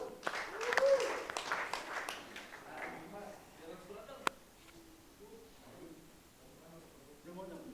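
Audience applause at an English class session, a burst of clapping up front that fades within a few seconds, then lighter scattered sounds with voices murmuring underneath.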